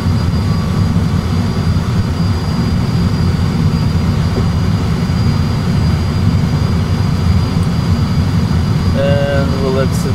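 An Airbus A320 rolls out on the runway after landing with reverse thrust engaged, a loud, constant broadband engine roar and rumble heard from the cockpit, with a brief tone near the end.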